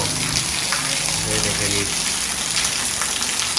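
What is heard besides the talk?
heavy rain pouring in a street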